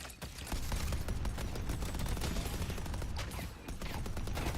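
Rapid gunfire rattles in the Deadlock video game, a dense continuous burst of shots with a brief dip midway before resuming, loud and without speech.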